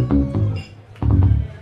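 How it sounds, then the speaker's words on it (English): Bass notes played through a PlayStation 2 analog game controller: two loud, buzzy low-pitched phrases separated by a short gap, sounding close and alone. "He has the PlayStation 2 normal analog controller, and it sounds like this when he plays the bass."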